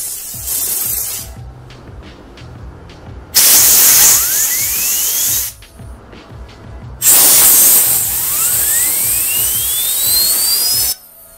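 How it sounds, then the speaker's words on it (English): Air compressor nozzle blasting grease out of fidget spinner bearings, two long loud hissing bursts of several seconds each, the spinning bearings' whine sweeping upward in pitch beneath the rushing air. "we're going to go over and get the air compressor to spray out what grease is remaining in there"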